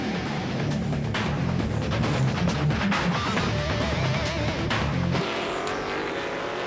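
Grand Am Rolex Sports race cars in the 2001 Nextel 250 lapping the oval at Homestead Miami Speedway, several loud engines screaming past in overlapping waves of rising and falling pitch, one car fading off near the end.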